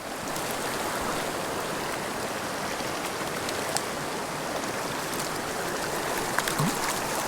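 Creek water flows in a steady, continuous rush during tenkara fly fishing for brook trout, with the broadband wash of the stream close by and no talking.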